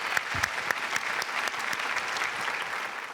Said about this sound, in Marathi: त्यामुळे जोरदार टाळ्या